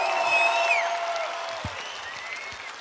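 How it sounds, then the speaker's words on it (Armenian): An audience applauds to welcome French President Macron at an event in Armenia, with dense clapping that fades slightly and some high whistle-like tones early on. "Խնդրում եմ մի հատ բուռն ծափերով նախագահ Մակրոնին"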